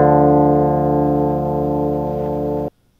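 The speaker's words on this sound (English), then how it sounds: "So here's a simple little guitar line." A clean, sustained guitar line rings out on its own, steady and bright for a few seconds, then cuts off abruptly into silence.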